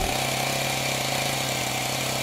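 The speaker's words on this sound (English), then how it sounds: "I don't have a chainsaw." A chainsaw runs loud and close with a constant buzzing engine drone and no talking.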